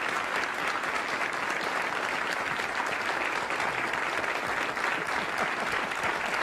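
A crowd applauds steadily and loudly, with sustained dense clapping throughout and no voices standing out.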